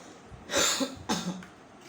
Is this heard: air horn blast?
no